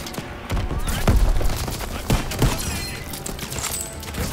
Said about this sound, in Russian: Орудие еще стреляет!